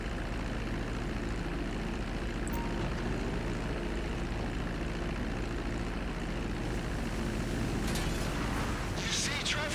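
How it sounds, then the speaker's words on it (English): A propeller airplane engine droning steadily in flight in Grand Theft Auto 5, loud and continuous for the whole stretch, with someone speaking over it. "This isn't a very fast plane, although I am covering quite the distance."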